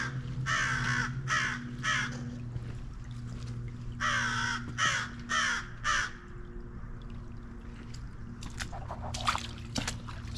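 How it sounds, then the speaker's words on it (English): Crow cawing in an urban neighborhood beside a city creek, several harsh caws in bursts, fairly near, over a steady low hum and faint trickling water, with a later flurry of shorter calls. "There's my friend, the crow."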